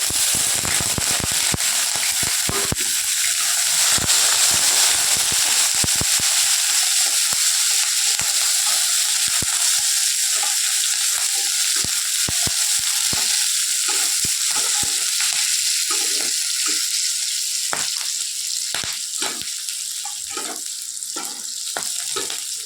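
Chopped onion and green chili hit hot oil in a pan with dried red chili and five-spice seeds, a loud steady sizzle with sharp crackles and pops, scattered stirring clinks running throughout.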